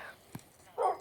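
Minecraft dogs barking in a video game, two short bark-like bursts about half a second apart, the second louder and longer, heard alone.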